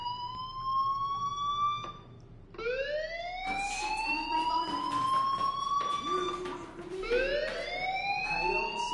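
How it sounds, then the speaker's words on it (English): A fire alarm wails in the video game Life is Strange, rising electronic siren sweeps repeating several times with short gaps, loud and prominent over a faint background hum. "Hey, do you hear that fire alarm?"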